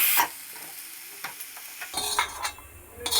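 Tomato, coconut, garlic and ginger fry and get stirred in a pan, with sporadic scraping strokes and a soft sizzle that grows louder partway through, close by and with no voices.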